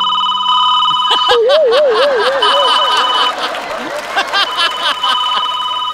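A telephone rings loudly in a Marathi stage comedy sketch, with a warbling, repeating electronic tone that cuts in suddenly, over audience chatter and light laughter.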